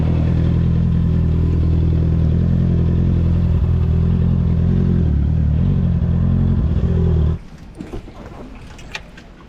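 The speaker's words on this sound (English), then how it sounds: "I'm gonna bring the motorbike over anyway" A motorbike engine runs loud and close with a steady low throb while being ridden, then cuts off abruptly as it is parked, leaving faint clanks and shuffling.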